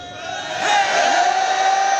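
A large rally crowd in Khipro, Sindh, chanting a political slogan: a sustained, swelling mass of voices that grows louder midway and holds steady, dense and distant-sounding.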